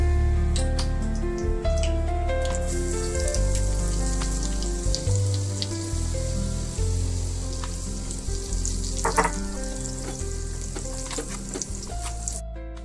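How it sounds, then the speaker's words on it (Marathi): Soybeans fry in hot oil in a pan, a continuous crackling sizzle with scattered pops and spits running throughout under a steady musical background, no talking. "तेल आता गरम झालेलं आहे, यामध्ये आपण सोयाबीन जे आहे ते प्रॉपर फ्राय करून घेणार आहोत."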